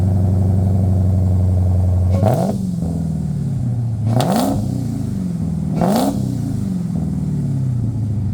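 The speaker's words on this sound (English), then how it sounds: "he's going to go inside the car and give it a few revs" A throaty car engine idles low, then is revved three times in quick bursts, each rising and falling back to a rumbling idle.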